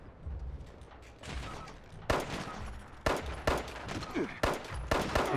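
Rapid bursts of automatic gunfire from a Fallout 76 firefight, loud and close, with several sharp volleys following one another across the stretch.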